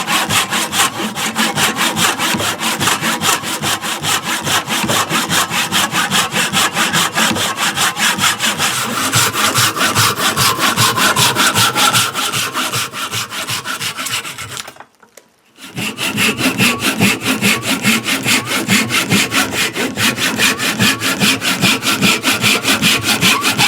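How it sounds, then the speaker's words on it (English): A hand saw cuts back and forth through a wooden knife handle for a Mora Basic knife, roughing out its profile with loud, close, rhythmic rasping strokes and one brief pause partway through. "just so I can do a little bit of profiling work with the saw"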